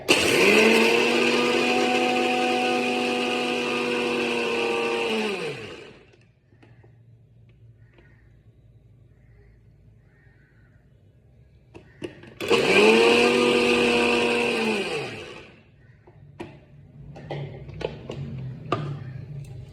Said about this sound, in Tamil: மிக்சியில்